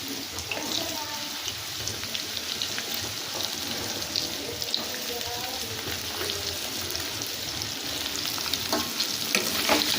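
Sliced onions frying and being stirred in a pan of hot oil for a Bengali katla fish curry, a steady close sizzle with scraping stir strokes running throughout, no voices.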